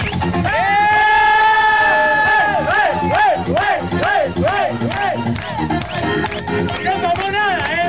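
A crowd at a 2014 freestyle street dance show in Plaza Jerónimo del Barco cheers, whoops and shouts in rising, chant-like bursts, with rhythmic clapping running through, loud and close throughout.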